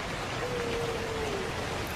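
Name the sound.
heavy rain drops falling on leaves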